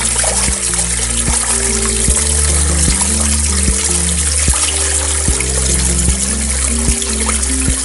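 After heavy rain, water flows through a pipe into a farm pond. The flow gives a steady, continuous wash, while louder music plays over it throughout.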